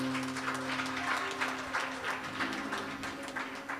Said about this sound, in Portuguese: Dê uma salva de palmas mais forte